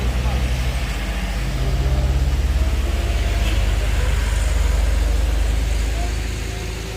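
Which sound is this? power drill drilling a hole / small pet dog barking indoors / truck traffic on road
truck traffic on road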